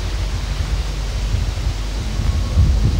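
Thunder rumbles with rain setting in, a steady loud low-pitched wash of noise that rises slightly toward the end, with no voices.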